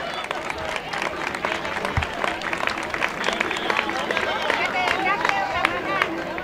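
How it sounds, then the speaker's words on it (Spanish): Crowd at an outdoor romería pilgrimage festival claps amid lively chatter and shouts, the applause mixing with voices and bustling noise throughout. "Un fuerte aplauso, su ofrenda."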